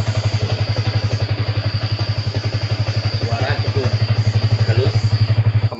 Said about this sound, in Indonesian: Mesin hidup normal.